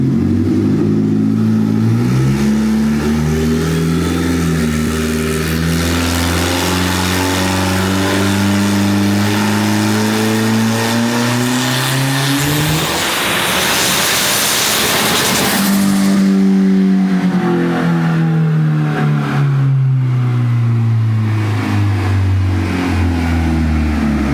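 A turbocharged Toyota Camry engine runs loud and close, its pitch rising through a long rev that peaks with a roaring surge midway and then falls back to a steady idle, with no voices over it.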